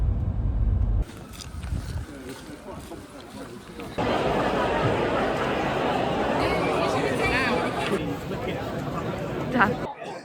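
Dense crowd chatter at a busy 10k running race, a steady wash of many overlapping voices that swells louder partway through and stays close, with some wind buffeting the microphone.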